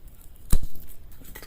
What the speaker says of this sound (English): So I'll cut above like that.